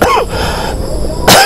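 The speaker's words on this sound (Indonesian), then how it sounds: "Batuk saya." A single sharp cough bursts out close by, followed by a brief pause and another harsh cough-like burst at the end.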